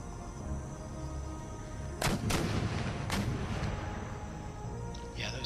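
Artillery and mortar guns fire in a Napoleonic-era battle in Empire: Total War, several sharp booming reports in a short cluster against a steady low battlefield rumble, fairly distant and muted.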